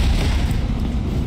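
A grenade launcher fires in Resident Evil 3 Remake, a heavy, sustained low boom filling the whole moment with dense rumbling energy and no clear gaps.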